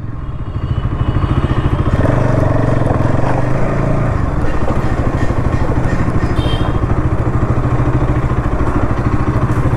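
A motorcycle engine idles steadily at a busy bike wash during the Eid rush, a continuous close mechanical rumble with faint clatter running throughout, no voices over it.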